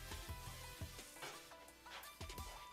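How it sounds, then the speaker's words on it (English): Cumin seeds sizzling in a hot pan on medium heat, a steady crackling fry with scattered pops and the occasional clink of a utensil stirring, close and moderately loud. "Just let the cumin sizzle."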